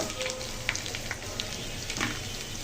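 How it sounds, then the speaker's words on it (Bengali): Onions frying in oil with bay leaf, cinnamon and cardamom, a dense continuous sizzle heard close with a few faint stirring clicks. "পেঁয়াজটা লাল লাল হয়ে গেছে। তেজপাতা, দারচিনি, এলাচ।"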